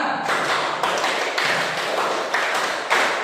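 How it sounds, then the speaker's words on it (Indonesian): A class of fourth-grade children claps in unison through two counted rounds of five, the sharp group claps landing in a steady rhythm roughly every half second, near and loud with no speech. "2 kali tepuk 5"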